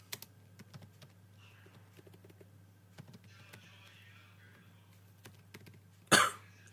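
Quiet, sparse key taps on a computer keyboard sound close by over a low hum, with one sharp, louder knock or cough-like burst near the end.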